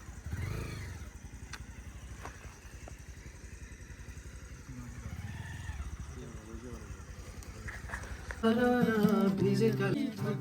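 A motorcycle on a ride to Ruby Valley, giving trouble after its fuel tank was left open, runs with a low, steady engine rumble under voices, then tuneful tones rise near the end.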